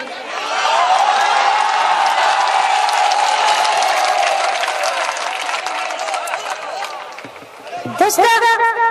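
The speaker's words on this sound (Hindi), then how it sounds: "एक बार पूरा मजमा खड़े होकर तालियां बजा दे" A mushaira crowd rises and applauds, a loud, sustained wash of clapping and cheering from a large audience that dips briefly near the end before swelling again amid voices.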